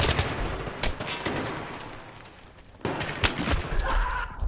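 Sustained automatic gunfire from Battlefield 3 rattles in dense, loud bursts, with a brief lull before more shots and explosions resume; no talking.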